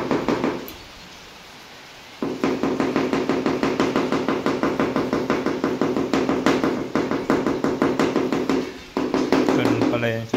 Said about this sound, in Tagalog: Kailangan pukpukin.